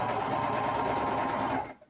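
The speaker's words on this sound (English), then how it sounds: "we're sewing back over the front here." A sewing machine stitches a wearable blanket, running in a fast, steady, close whir that stops abruptly at the end.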